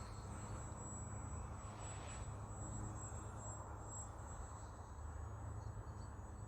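A Twisted Hobbys RC Factory MXS-C radio-controlled airplane flies in wind, its electric motor a steady distant drone that holds at an even level throughout, with no voices.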